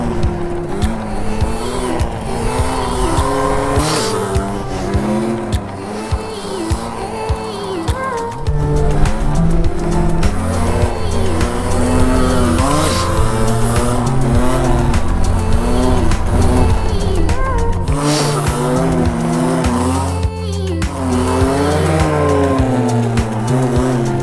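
A Derbi Senda motorbike revs hard and continuously while wheelies are popped, its engine pitch rising and falling in wavering sweeps, loud and close throughout with no talk.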